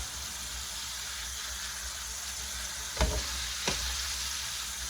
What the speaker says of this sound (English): I'm going to add the bok choy next.